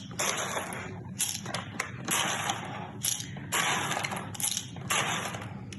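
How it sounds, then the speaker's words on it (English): Coffee beans are ground coarse in a grinder for a French press, a measured 11 tablespoons, giving repeated bursts of gritty mechanical whirring with short pauses between them, moderately close. "And now I'm going to grind my 11 tablespoons right now."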